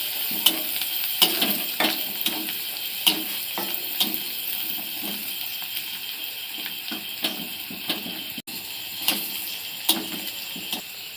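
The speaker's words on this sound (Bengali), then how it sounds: "এই দেখো পেঁয়াজ আর লঙ্কা ভেজে নিচ্ছে" Onions and green chillies sizzle steadily in hot oil in a home kitchen pan, with a spatula scraping and tapping the pan at a loose, regular rhythm, close and clear.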